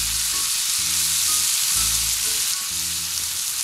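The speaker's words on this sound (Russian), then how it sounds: "Пожарить лук." Onions sizzle and fry in a small pan on a camp stove during a lakeside camping trip, a bright constant crackle close up, broken by low bumps as the food is stirred.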